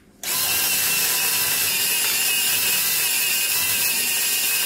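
Electric grain mill grinding whole wheat berries into flour, with an auger feeding the grain into the grinding mechanism; a loud, steady, high whining roar starts abruptly and runs on without pause, no talk.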